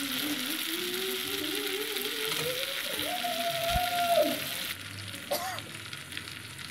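Steady, crackling sizzle as fried potatoes go into hot oil in a pan for a rohu and pointed gourd curry, continuous and close, with a brief tonal whine running through it.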